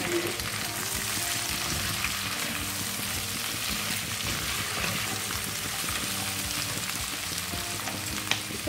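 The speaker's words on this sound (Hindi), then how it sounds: "सारे प्याज को डाल दें। हम मीडियम फ्लेम पे ही ढक के पकाएंगे।" Onions for restaurant-style chilli paneer cooking covered in a pan over a medium flame, a dense, steady sizzle and crackle that holds evenly from start to finish with no voices.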